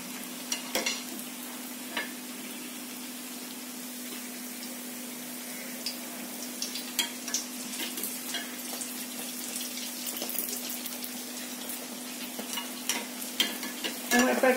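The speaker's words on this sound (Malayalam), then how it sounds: "അപ്പോൾ ഇതെടുത്ത് ഇതിലേക്കിട്ട് വറുത്തെടുക്കാം." Kerala unniyappam batter frying in hot oil, a steady, moderately loud sizzle with crackling pops running throughout, with scattered clinks of utensils and no talk.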